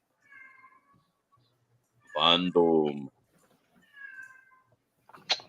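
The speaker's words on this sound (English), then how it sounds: "It's mine. I'm sorry. That's my cat." A pet cat meows several times indoors, with one longer, louder meow in the middle and shorter, fainter meows around it, while a person speaks briefly.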